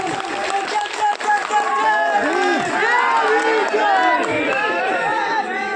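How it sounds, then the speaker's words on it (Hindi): A large crowd at a Dalit rights rally in India claps and cheers loudly and continuously, with many overlapping voices shouting throughout. "अम्बेडकर वादियों तालियां बजाओ अपने लिए"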